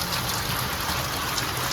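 Heavy rain pours down in a continuous dense roar of water that stays loud and even from start to finish, with no voices.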